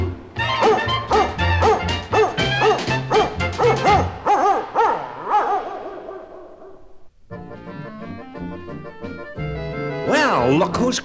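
A German Shepherd barks on an old children's record. A quick run of rhythmic barks comes in a musical, tonal style, then longer yelping calls follow with music in the background.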